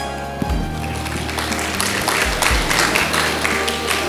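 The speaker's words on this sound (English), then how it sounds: "So give them a big round of applause." Audience applause at a school farewell celebration following a girls' performance: dense clapping mixed with crowd noise and low thumps, moderately loud and continuous.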